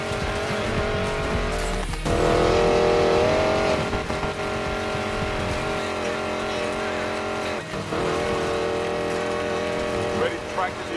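A hypercar racing in Need for Speed Payback, its engine revving and tires squealing continuously over eleven seconds, with a voice talking over the driving.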